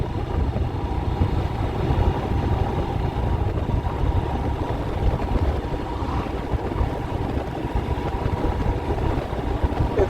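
A Royal Enfield Himalayan motorcycle engine, still being run in, hums steadily at a gentle pace while riding into the wind, a continuous low drone with wind noise and no talk.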